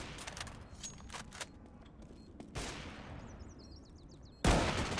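FAMAS rifle fire in Counter-Strike: Global Offensive, with several sharp shots and short bursts that crack out, then a loud, sustained burst near the end, over a dense game background.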